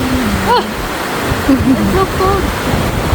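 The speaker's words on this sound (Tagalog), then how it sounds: "Mahaba ang daloy ng tubig. At napakalinaw pa ng tubig." Steady broadband rush of a long, clear mountain stream in Bicol, loud and continuous, with people talking over it throughout.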